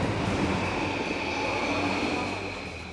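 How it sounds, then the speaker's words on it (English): A train at a railway station in Japan, a loud continuous rumble and rolling roar with a high metallic whine, slowly fading toward the end. "So right now I'm at the train station."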